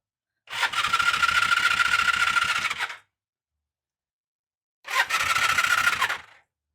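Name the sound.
Honda CB350 motorcycle engine running after carb rebuild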